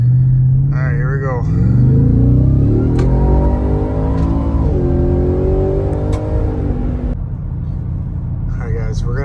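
A Ford Raptor R pickup engine with an S&B aftermarket intake revs hard and loud, climbing in pitch through a long pull before dropping back to a rough idle, with a throaty intake roar.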